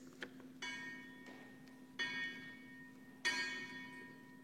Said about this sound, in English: as the sound of the bell settles into silence